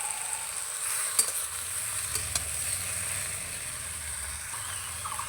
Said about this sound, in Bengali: কুলটা একটু হালকা ভাজা ভাজা হয়ে গেছে